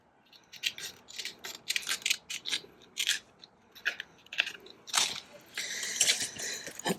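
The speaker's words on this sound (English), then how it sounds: "It's not straight, but I can cut this little bit here." Scissors snipping through paper close up, a quick irregular series of crisp cuts and rustles, faint and without talk.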